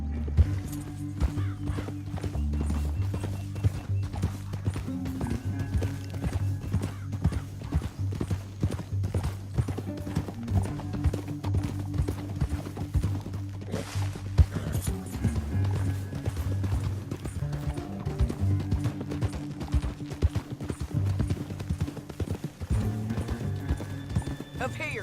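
Horses gallop in Red Dead Redemption 2, a continuous rhythmic clatter of hooves under a low musical drone, with a whinny and people talking over it.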